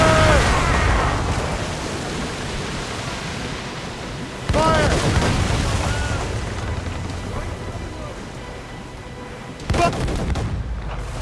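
Heavy ship cannon and mortar fire thunders in a naval battle in Assassin's Creed Rogue, with three big booming volleys spaced several seconds apart, each decaying into rumbling noise.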